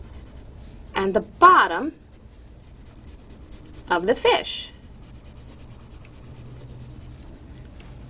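Colored pencils rub and scratch across paper in two short bursts of blending strokes, close and soft, while a person speaks briefly beneath a faint steady background hum.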